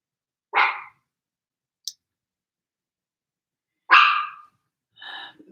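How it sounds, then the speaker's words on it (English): A dog gives two short, sharp barks a few seconds apart, each clear and close, with a small click and a brief breathy snort between and after them in otherwise quiet surroundings. "there's one little bark"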